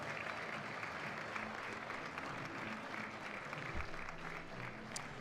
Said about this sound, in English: Let's give all of our special guests a round of applause.